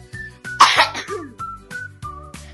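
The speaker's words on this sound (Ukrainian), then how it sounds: "Тепер я кашлю." A child coughs in a burst of several harsh coughs with a throat-clearing rasp, close and fairly loud, with no speech.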